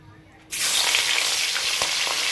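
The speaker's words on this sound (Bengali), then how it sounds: "এই মাছটা ভেজে নেবো। কড়াইতে তেল দিয়ে দিলাম, সর্ষের তেলই ব্যবহার করছি।" Hilsa fish dropped into hot mustard oil in a wok bursts into a loud, dense sizzle after a quiet half second, then keeps hissing steadily up close.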